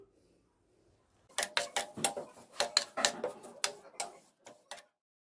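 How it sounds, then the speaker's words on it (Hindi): Sesame seeds dry roasting on a low flame, a quiet start followed by a run of sharp, irregular crackles and pops, close and fairly faint, dying away near the end. "तिलों में से हल्की हल्की चटचट की आवाज़ आनी स्टार्ट हो गई है"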